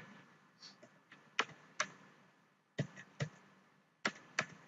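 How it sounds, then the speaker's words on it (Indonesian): Typing an address on a computer keyboard while accessing a MikroTik router: sparse, fairly quiet key clicks in irregular clusters, a few sharper taps standing out, with no talking. "Saya akan ketik alamatnya di sini."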